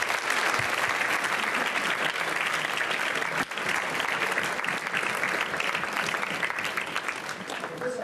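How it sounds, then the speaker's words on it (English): A debate audience gives a sustained round of applause, a loud, dense, continuous wash of many hands clapping with a brief dip partway, holding nearly level to the end. "And give them a round of applause,"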